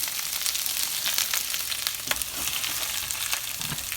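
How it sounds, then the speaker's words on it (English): Seasoned cube steak sizzles loudly in a frying pan, a dense steady crackle with small pops throughout, close and alone. "Drop it right into my frying pan."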